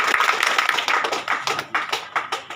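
A crowd gives enthusiastic applause for the Jan Seva Foundation president. Dense, rapid hand claps sound close and steady, then break into uneven bursts toward the end, with no speech over them.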